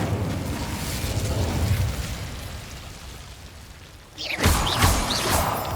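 A fire spell bursts into a sudden whooshing roar of flame in Hogwarts Legacy, rising loudly after a steady rumbling bed of game ambience, with crackling embers trailing off.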